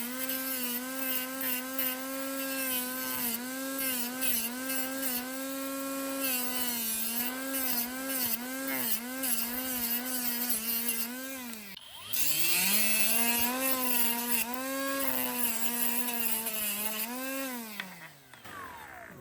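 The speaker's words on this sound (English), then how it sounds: "Now I'm gonna use the grinder and I'm gonna polish this." A brushless cordless mini angle grinder rated at 19,500 RPM polishing a workpiece, a loud high-pitched motor whine that wavers in pitch under load, dips sharply midway, then spins back up and winds down.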